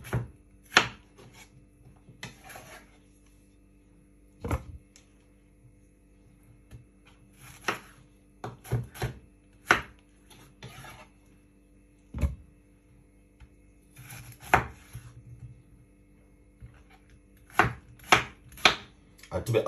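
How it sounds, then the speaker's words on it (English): A knife chopping cucumber on a cutting board, irregular sharp close-up chops in bursts with quiet pauses between them, loud against a silent background. "Now, I remove the skin from the cucumber"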